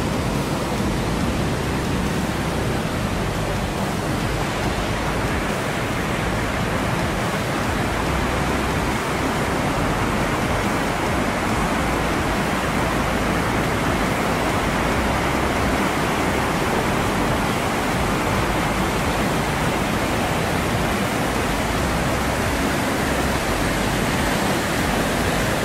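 A waterfall at Baume-les-Messieurs in the Jura, France, gives a steady, dense roar of falling water that holds at an even loudness throughout, with no voices.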